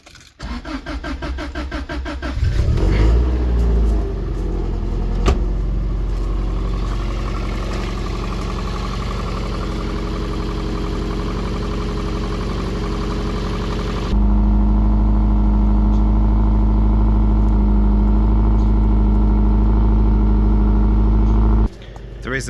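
A Honda GA3 car engine cranks briefly, catches and settles into a loud, steady idle close by, holding a constant drone to the end.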